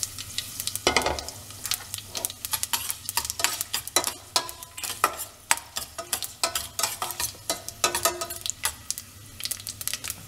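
Sun-dried black nightshade berries fry in oil for a Tamil vatha kuzhambu, a steady close sizzle punctuated by frequent sharp crackles and stirring clicks throughout, with no talking.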